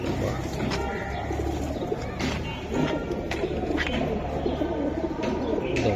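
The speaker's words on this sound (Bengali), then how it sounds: "দুইটা কবুতর দেখছেন অসাধারণ না ভাই" Silver Giribaz pigeons kept for sale coo in soft repeated low calls, close by, over a dense wash of background flock noise and faint chirps.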